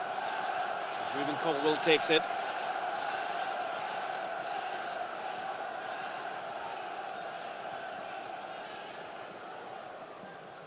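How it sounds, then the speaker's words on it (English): Football crowd at a Sunderland v Cardiff City match produces a steady, distant stadium roar and hum lasting throughout, with a commentator speaking briefly over it near the start. "Crowd doing their bit again."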